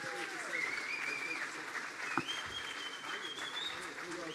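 An audience at a hackathon closing ceremony in Cannes claps continuously in a dense, fairly distant wash of applause, with a few faint whoops rising above it.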